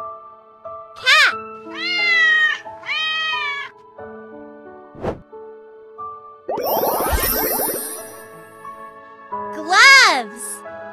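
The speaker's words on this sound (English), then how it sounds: "Cat!" A cat meows in several drawn-out, tonal calls, loud and close, set among a children's word game with a voice naming objects and light chimes.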